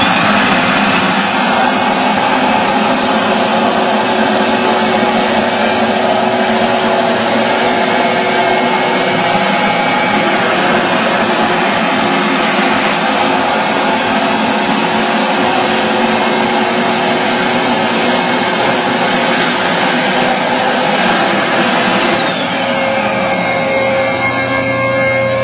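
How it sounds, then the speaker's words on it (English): A loud, steady high-pitched motor whine drones continuously with a whooshing roar from a Steamin Demon carpet extractor's vacuum motor running close by without pause. "vacuum motor on."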